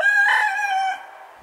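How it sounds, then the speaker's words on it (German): A rooster crows once, close and loud, a single harmonic call lasting about a second before it trails off into quiet. "Ja, das war nämlich unser Hahn."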